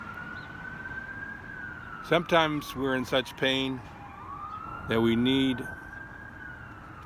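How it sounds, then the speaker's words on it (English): An emergency vehicle siren wails far off, a thin rising and falling tone running steadily under a person talking nearby. "you might hear a siren off in the distance right now"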